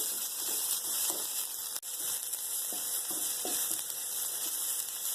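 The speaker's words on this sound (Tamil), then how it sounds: "ஒரு ராஸ்மெல் ஃபுல்லாக போகிற வரைக்கும் நம்ம வதக்கணும்." Paneer masala sautéing in a pan until the raw smell cooks off, a steady close sizzle with occasional soft stirring scrapes and no talk.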